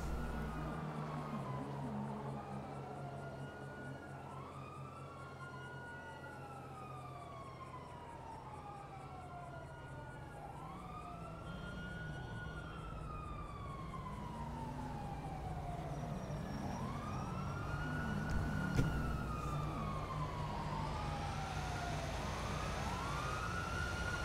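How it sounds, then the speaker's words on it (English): Emergency vehicle sirens in a video game wail in repeated rising and falling sweeps, several overlapping, faint and distant over a steady low rumble of traffic. "I hear the sirens."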